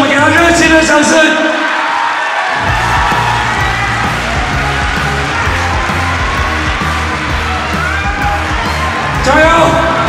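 Crowd at a strongman competition cheers, whoops and applauds loudly and continuously, with an announcer speaking over the noise and shouts rising near the start and end.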